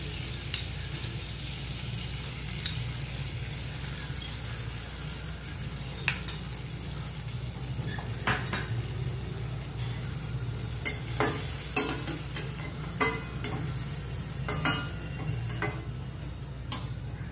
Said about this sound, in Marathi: जिरा घालून झालं की त्याच्यामध्ये आपण कांदा घालूया.